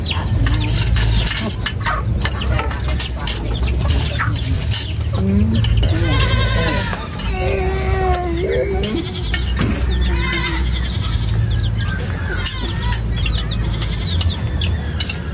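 Several goats bleat repeatedly at close range, their wavering calls rising over a steady low rumble of background noise.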